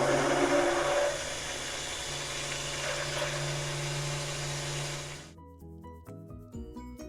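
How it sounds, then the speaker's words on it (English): Stick blender whirring steadily as it mixes a thick, pudding-like coffee soap batter, a loud continuous motor drone with a low hum that cuts off abruptly near the end, leaving faint clinks and handling noise. "You want to be sure to hold the stick blender at an angle."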